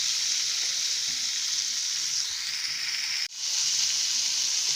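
Steak frying on high heat in a pan just after flipping, a loud, close, continuous sizzle with a brief dip near the end and no talk.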